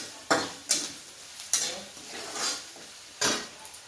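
Crushed peanuts and turmeric frying in a pan for upma, with a soft sizzle under four or five distinct spoon scrapes and clinks against the pan, close and unaccompanied by voices.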